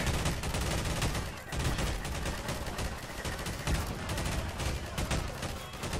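Dense gunfire in a Garry's Mod cops versus robbers NPC fight between SWAT units and robbers, a continuous loud barrage of overlapping shots and automatic bursts with no pause.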